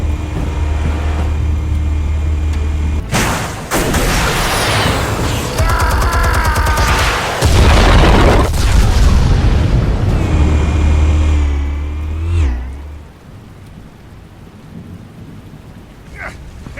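Explosives detonating in Batman: The Telltale Series, a sudden loud blast followed by heavy rumbling and crackling debris, another booming burst, then a fading roar and quieter tail.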